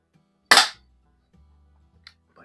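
A single sharp crack from a Daisy 880 air gun firing, close and loud, then near silence with a few faint small clicks and a low hum.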